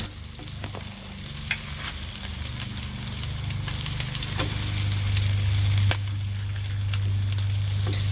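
A lobster tail sizzles on a hot grill in a steady, close hiss, with a few scattered pops and crackles and a low rumbling hum underneath, and no one speaking.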